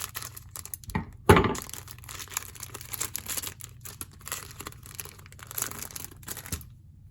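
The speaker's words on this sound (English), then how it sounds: "I got them here, might as well use the scissors." Scissors cutting open a 1986 Topps baseball card pack: one sharp, loud snip and crinkle of the wax wrapper, followed by quieter rustling and crinkling of the pack up close.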